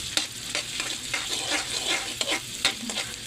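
Pork chop frying in a pan, giving a soft, steady sizzle broken by a few clicking stirs and scrapes, fairly quiet and with no speech.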